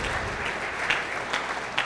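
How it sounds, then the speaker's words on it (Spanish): Church congregation applauding during a sermon, a steady wash of clapping at moderate level with a few louder individual claps standing out, no talking over it. "Denle un aplauso a Cristo"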